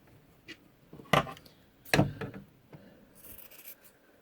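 Scissors snip around the fabric ears of an embroidered koala lovey, giving a few sharp close cuts with soft handling rustle between them and no talking.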